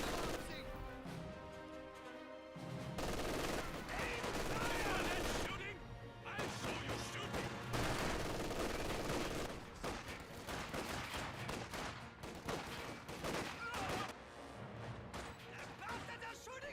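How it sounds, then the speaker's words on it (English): Sustained MG42 machine gun fire mixed with explosions and battle noise in the Company of Heroes 2 video game, dense and continuous, with a commentator talking over it. "don't forget the MG42 hitting combat engineer"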